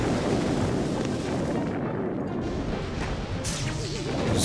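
Gunfire and explosions from the mobile strategy game Boom Beach, a steady rumbling barrage of shots and blasts with a brighter burst near the end, loud and continuous with no talk.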